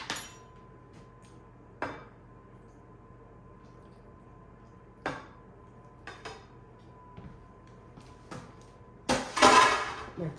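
Cornstarch mixture with cumin is dumped onto chicken in a sheet pan: faint isolated clinks and taps of a bowl against metal, then a louder, brief wet, rushing slosh near the end.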